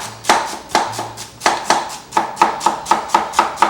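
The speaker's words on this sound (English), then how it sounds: "Now put all your celery out on the chopping board." A knife dices celery on a chopping board in a close, brisk series of about a dozen sharp chops that speed into a steady rhythm.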